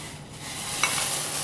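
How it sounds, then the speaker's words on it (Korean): Water boiling in a kitchen pot while rice is prepared for bibimbap, a continuous close bubbling hiss with a brief clink partway through, steady and fairly loud, no voices. "지금 또 다시 냄비에 물이 끓고 있거든요"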